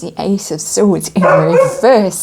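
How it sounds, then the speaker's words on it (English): Neighbours' dogs bark in the background while a person speaks over them, with short yapping barks breaking through between and under the continuous talking. "If you can hear chatter and dogs barking"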